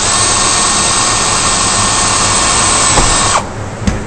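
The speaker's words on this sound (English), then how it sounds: "Drill the other hole and pop rivet that." A power drill boring a hole through metal spouting for a pop rivet on an external quad gutter angle, a loud, close, continuous high whine that holds steady for over three seconds, then cuts off into quieter clicks and handling noise.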